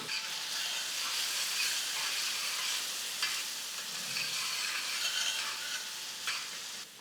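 Garlic sizzles in butter in a pan for a pav bhaji chutney, a continuous close frying hiss with occasional brief stirring scrapes and no speech.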